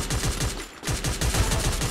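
Thompson and G36 gunfire in a battle royale video game, a rapid automatic burst of evenly spaced shots, a brief gap, then another burst, loud and close.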